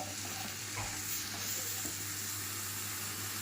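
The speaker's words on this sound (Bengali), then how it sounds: "এবার এটা আমি ভালো মতন নেড়ে চেড়ে ভাজবো। বেগুনটাও একটু লাল লাল করে ভাজবো।" Eggplant and potato pieces seasoned with salt and turmeric fry steadily in hot oil, a continuous close sizzle with occasional stirring scrapes, no talk.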